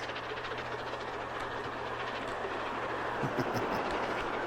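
A train in the Transport Fever 2 video game, riding aboard the Tornado on the Highland Loop, gives a steady, loud rumble on the rails with faint rhythmic clatter throughout.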